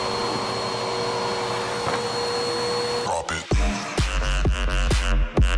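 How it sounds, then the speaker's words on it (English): A regular household vacuum cleaner running inside a car interior, a loud steady whine, then bumps and scraping knocks as the nozzle works around the seats. "I'm gonna start by vacuuming it out. I'm just using a regular vacuum"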